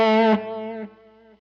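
Electric guitar through a Line 6 Helix boost: a clean-boosted chord rings out, followed by a second quieter strum that decays into a fading sustain, heard alone.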